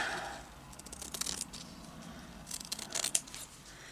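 Scissors cut through worn, holey old clothing fabric, giving a run of soft crisp snips and tearing rustles at close range with no talk.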